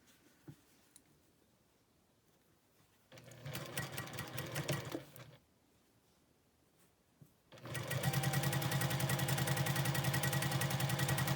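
Sewing machine stitching quilt fabric in short bursts: a brief run of rapid mechanical chatter, a pause, then a longer steady whirring run, close and clear with no talk.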